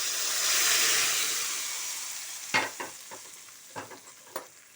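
Amaranth leaves hit hot oil with a loud rush of sizzling and hissing that slowly fades, followed by a few sharp spatula scrapes and stirs against the pan, with no voices.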